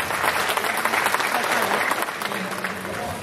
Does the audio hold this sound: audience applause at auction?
yes